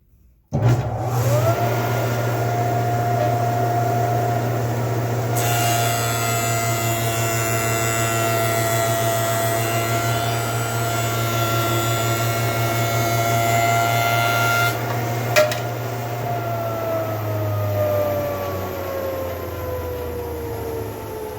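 Woodworking jointer flattening a wooden board, with a loud, steady motor whine and droning cutterhead hum that persists throughout, shifting in tone as the board passes over the blades and then winding down slightly.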